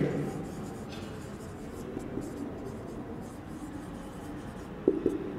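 A line drawn across a board during a Class 12 physics lesson gives a soft, steady scratching rub for several seconds, ending in a couple of small sharp taps.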